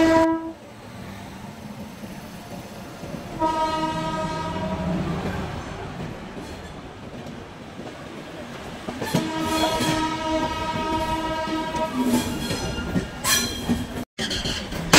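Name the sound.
Saraighat Express train leaving Howrah station platform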